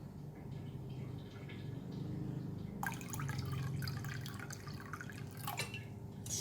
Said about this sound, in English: I'm going to add a bit water inside this green color liquid